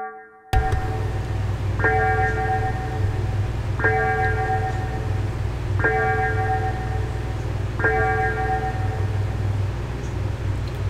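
A bell chimes in evenly spaced strokes, about two seconds apart, ringing clearly over a steady low hum with no voices.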